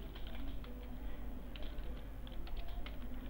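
Fast, light typing on a computer keyboard, a steady patter of close key clicks with no voices.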